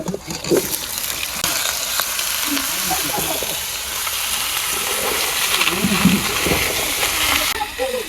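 Potatoes, tomatoes and onion stalks frying together in a pan in a village kitchen, a loud continuous sizzle and splatter with stirring, close up, while a voice talks over it.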